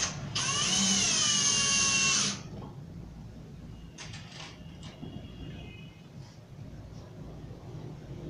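A power drill driving screws into melamine shelf panels whines loudly for about two seconds, then quiet workshop noise follows with a few faint clicks and scrapes.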